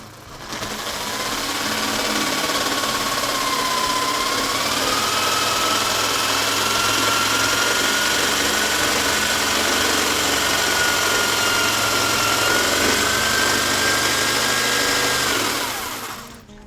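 A power saw runs steadily for about fifteen seconds, a loud continuous whine with a shifting pitch as the blade cuts through a solid hardwood floor plank, then spins down.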